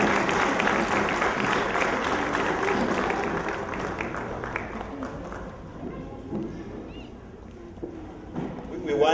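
Applause from an audience fills most of the clip, a dense patter of clapping that slowly thins out, with crowd noise and voices mixed in.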